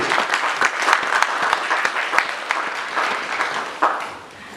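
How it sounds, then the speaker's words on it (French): Audience at a political conference held in support of Moïse Katumbi bursts into loud, dense applause that keeps going, then eases slightly toward the end. "Je pensais qu'on pouvait acclamer pour cet aspect des choses."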